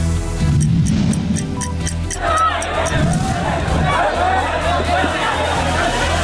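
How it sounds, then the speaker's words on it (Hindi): A midnight crowd in Bulandshahr, Uttar Pradesh, erupts in uproar amid a clash between Owaisi supporters and Bhim Army members, with shoving and slogan chanting forming a loud, continuous babble of voices after a short ticking intro. "आधी रात को भीड़ जुटी हुई, हो हल्ला, हंगामा हो रहा है, धक्का मुक्की हो रही है, नारेबाजी हो रही है"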